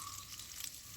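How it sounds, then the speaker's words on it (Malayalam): Chopped onions sizzle in butter in a pan with a soft, steady frying hiss for about a second, then a sharper, louder burst at the very end. "അതിൻ്റെ കൂടെ തന്നെ 2 സവാള അരിഞ്ഞത് ഇതിലേക്ക് ചേർക്കാം."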